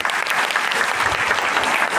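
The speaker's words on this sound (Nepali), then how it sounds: "श्रमदाताहरूको सम्मान स्वरूप जोरदार ताली बजाउनुपर्छ" Loud, sustained applause from a gathered audience honouring volunteer workers building a bridge, a dense even clapping with no pauses.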